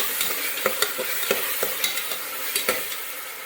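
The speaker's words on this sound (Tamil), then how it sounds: "இஞ்சி பூண்டு வதங்கிட்டு நமக்கு சீக்கிரம் வதங்குறதுக்கு உப்பு சேர்த்துக்கலாம்" Ginger and garlic sautéing with salt in a pan for biryani: a soft constant sizzle broken by regular sharp scrapes and taps of a stirring spoon, close and without voices.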